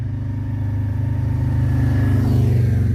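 Harley-Davidson Road Glide motorcycle engine idling close by with a deep, loping rumble that gradually swells in loudness toward the end, loud and alone without talk.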